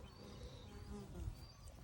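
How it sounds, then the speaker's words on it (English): Honeybees caught from a neighbor's house buzz around a backyard beehive set under a shaded tree in a canyon area, a faint, steady outdoor hum with no speech over it. "I have got my beehive. So these are the bees that I caught at a neighbor's house."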